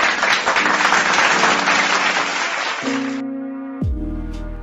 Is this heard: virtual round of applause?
yes